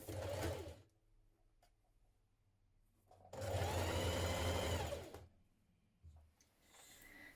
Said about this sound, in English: we're going to stitch this one over the top